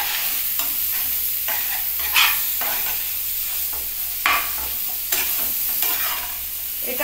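Food frying gently in oil in a pan on a low flame, a steady soft sizzle with occasional brief clatters of stirring.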